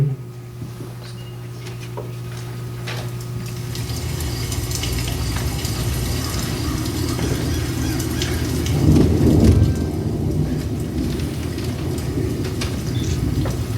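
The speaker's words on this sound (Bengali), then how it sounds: "বৃষ্টি, বৃষ্টি, বৃষ্টি" Heavy rain pours steadily while deep thunder rolls underneath, swelling into a louder rumble partway through, a dense continuous downpour with no voices.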